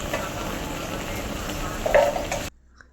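Curry of brinjal, moong dal and tomato, seasoned with turmeric, stirred in a pan at a dhaba kitchen, giving a steady sizzle and scraping with a louder burst near the end before it cuts off abruptly.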